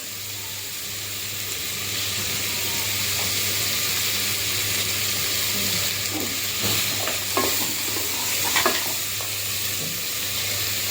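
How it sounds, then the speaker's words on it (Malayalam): Chopped onions sauté with salt in a pan, giving a steady loud sizzle and hiss with occasional stirring scrapes and knocks, close up and without any voices. "ഇതിനി വഴന്ന് എടുക്കാം. നമുക്ക് ഉപ്പിട്ട് കൊടുക്കാം, അപ്പോൾ വേഗം വഴന്ന് കിട്ടും."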